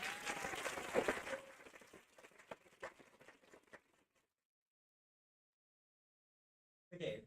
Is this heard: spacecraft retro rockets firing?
no